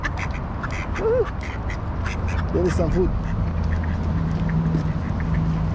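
Ducks quack repeatedly near a fast food restaurant in Kungsholmen, Stockholm, short nasal calls over steady outdoor crowd noise, with a person talking briefly among them.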